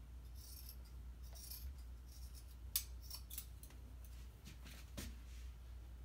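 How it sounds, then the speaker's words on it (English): Scissors snip through a T-shirt sleeve seam in a series of quiet, close, sharp cuts spaced irregularly over a low background hum. "cut open the seam."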